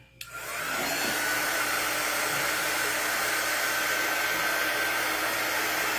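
Heat gun switched on to heat-set ink on fabric, starting with a click and then a steady, loud blowing whine that holds constant without pause.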